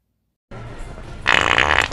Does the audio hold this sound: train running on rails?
no